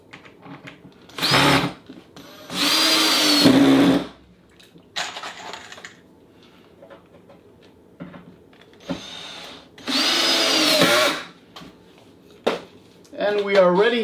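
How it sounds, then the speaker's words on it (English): A power drill drives the last screws into a 3D-printed hockey table game, giving several short whirring bursts of one to two seconds each, with pauses between them and speech coming in at times. "I'm putting in the last two screws now."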